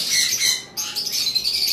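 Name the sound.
cockatiels and lovebirds chirping on a farm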